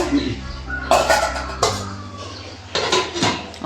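A metal lid clatters onto a pot of Kerala olan cooking with mattai rice, several sharp clanks and knocks in quick succession, close by, with a brief voice in between.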